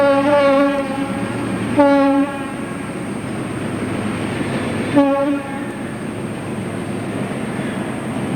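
Two diesel locomotives rumble steadily past in tandem on the Kowloon-Canton Railway at Hung Hom, Hong Kong, with a harmonic horn sounding three times in short blasts, the engine noise low and continuous throughout.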